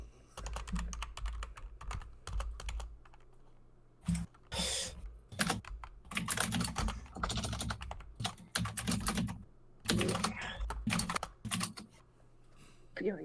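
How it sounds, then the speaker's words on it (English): Rapid, furious typing on a computer keyboard, dense bursts of clattering keystrokes with brief pauses, close and moderately loud, with faint voices murmuring underneath. "Furious typing."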